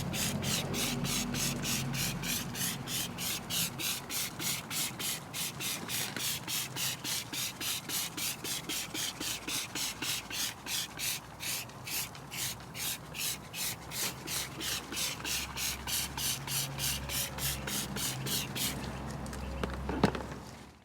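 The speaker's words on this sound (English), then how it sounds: "It was first liberally sprayed onto the dry wheels and tyres before being worked in with a few different brushes." Wonder Wheels rim cleaner is scrubbed into dry car wheels and tyres with stiff-bristled brushes in fast, even back-and-forth strokes that hold a steady rhythm, ending with a single louder knock.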